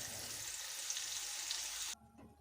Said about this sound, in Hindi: टमाटर को भी हम अच्छी तरह इसमें मिक्स कर लेते हैं, फ्राई कर लेते हैं।